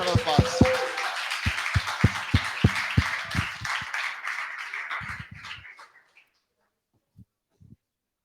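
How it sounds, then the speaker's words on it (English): An audience at a Lisbon demo day claps for a data science group taking the stage. The applause comes with a few sharp, distinct claps, thins out and dies away by about six seconds, and a couple of faint late claps follow. "Round of applause."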